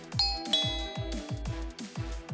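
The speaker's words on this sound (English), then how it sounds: "Then, someone rang the doorbell." A doorbell chimes repeatedly, a series of ding-dong tones ringing in a steady rhythm, clear and fairly close.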